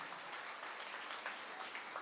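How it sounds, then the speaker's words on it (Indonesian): Church congregation gives hearty applause during a sermon, a continuous wash of clapping heard faint and distant throughout. "Yang setuju berikan tepuk tangan yang meriah."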